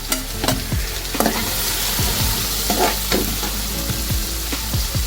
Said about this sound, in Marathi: हिंग छान ब्राऊन झाल्यानंतर यामध्ये घालणार आहे मी कांदा